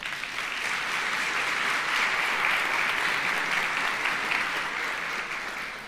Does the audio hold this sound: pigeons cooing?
no